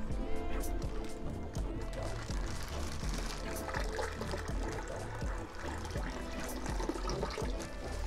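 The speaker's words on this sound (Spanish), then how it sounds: "de nuevo le vamos a agregar agua." Water poured steadily into a cherry barb aquarium, a loud, continuous splashing gush that runs for the whole stretch with no pause.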